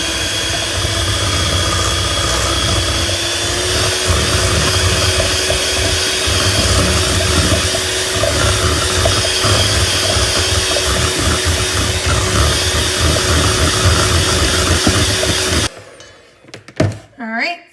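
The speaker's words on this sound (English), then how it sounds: "And then we're going to mix it until it's blended" A loud electric mixer whirs steadily, blending cream cheese, mozzarella and egg into keto bagel dough, then cuts off abruptly near the end, leaving a few soft clatters.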